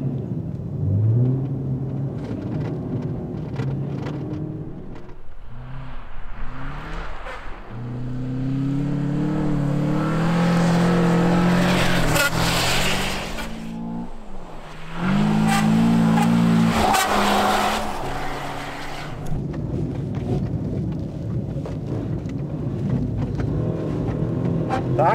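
A car driving a timed lap on a road stage: loud engine roar rising and falling through gear changes and hard revving, with a brief dip midway before it surges again.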